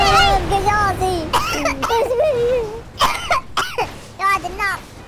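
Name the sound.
coughing from fire smoke, GTA V film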